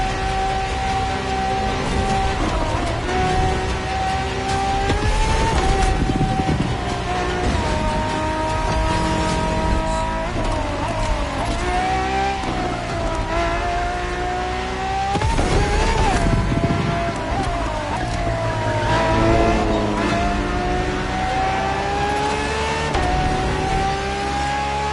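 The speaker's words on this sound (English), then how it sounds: "But it's still a racing machine through and through." Ferrari race car engine in a racing video game, continuous loud revving with rising and falling pitch as it shifts and accelerates, dense mechanical tone throughout.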